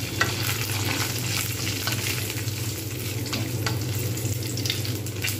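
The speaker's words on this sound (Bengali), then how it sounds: "এরকম করে ভালো করে আমি কিন্তু ভেজে নেব।" Papad (lentil wafers) fry in plenty of hot oil, a loud, steady crackling sizzle that continues without pause, with faint stirring sounds mixed in.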